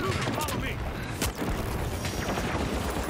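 Chaotic gunfire and booming blasts in the video game The Finals, a dense continuous barrage of shots and explosions with players shouting over it.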